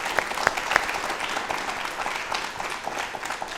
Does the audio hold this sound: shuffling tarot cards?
no